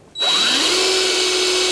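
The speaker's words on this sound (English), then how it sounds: "I'm gonna be pre-drilling with an 1/8 inch bit" Power drill pre-drilling into a concrete slab with a 1/8 inch bit, spinning up to a loud, steady high whine close by and holding it without letting off.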